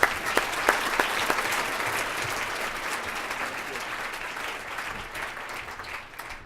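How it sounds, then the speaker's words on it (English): Conference audience applauding at a plenary session, dense clapping that starts strong and slowly fades over several seconds. "we should probably extend another welcome round of applause for Bill and Ron for their great leadership"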